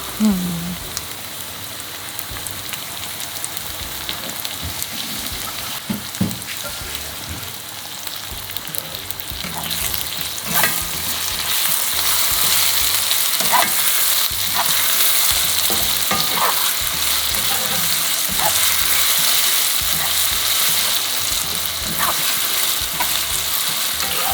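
Ginger and garlic paste fries in oil for a duck curry, a loud, close crackling sizzle that grows denser and steadier midway, with intermittent scraping strokes of a spoon stirring the pan and no speech.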